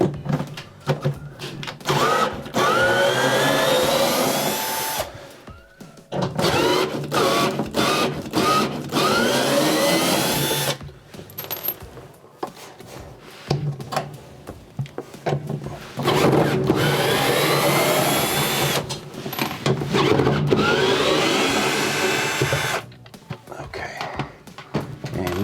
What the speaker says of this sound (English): So I have a 10 millimeter socket incorporated with the drill.